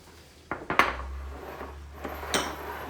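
Bowls set out for serving scallops, a few close clatters and clinks of dishware in quick succession, then a softer knock and a final clink.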